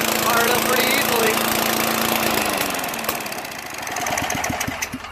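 A Craftsman Eager 1 self-propelled lawn mower runs with its muffler missing, a loud, raw, close engine roar that settles into a rougher chugging idle with audible firing pulses.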